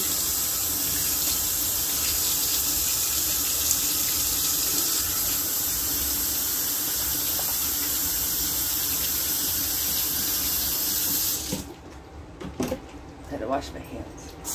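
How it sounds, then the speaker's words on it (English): Water runs from a kitchen sink faucet for hand washing, a steady close hiss that lasts about eleven seconds before stopping abruptly. A few clattering handling sounds follow. "Wash my hands."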